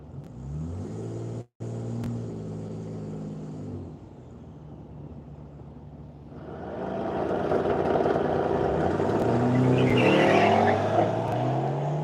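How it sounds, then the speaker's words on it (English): At a drag racing event, a BMW wagon and an AMG wagon launch down the strip, with steady engine drone rising into loud, roaring acceleration that builds toward the end; a sustained high tone runs early on. "BMW wagon going up against Chad Lowers in his AMG wagon"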